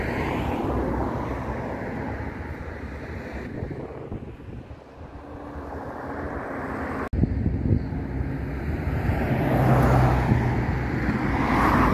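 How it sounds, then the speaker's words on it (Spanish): Cars and other vehicles pass close on a mountain road near Aculzingo, giving a steady loud roar mixed with wind buffeting that briefly drops, then swells louder toward the end. "los carros aquí te pasan rozando y luego se avientan a rebasar"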